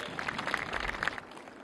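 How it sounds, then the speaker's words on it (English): Audience applause at a naval ceremony launching the ship PNS Babar, a steady wash of many hands clapping for about a second and a half, fairly distant and even, with no talk over it. "I would like all of you to applaud all these officers, our workers, and everybody for this great cause"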